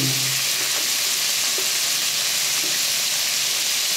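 Prawns pan-frying in a hot pan for Cantonese sweet and sour prawns give off a loud, steady sizzle and crackle that runs unbroken throughout, with no voices.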